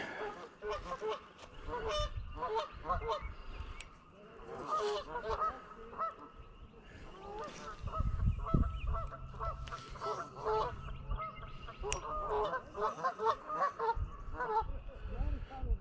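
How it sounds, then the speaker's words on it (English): Goose honking in repeated harsh calls near a crowded fishing spot by the water, loud and fairly close, with someone talking intermittently over and between the honks. "I get ready to get attacked by a goose."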